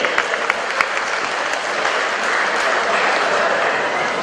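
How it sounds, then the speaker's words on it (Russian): Audience applause at a freestyle wrestling award ceremony in Khasavyurt, a broad sustained clapping from a crowd, fairly loud, with a few sharper claps standing out near the start. "Аплодисменты."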